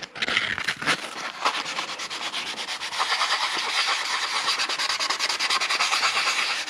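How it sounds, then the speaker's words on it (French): Fine 400-grit sandpaper scuffs steadily across a 1:43 scale miniature model, a dense, close rubbing rasp that continues with little break from start to finish, with no talking. "Plus qu'à poncer tout ça avec du fin. Donc là, j'ai utilisé du 400."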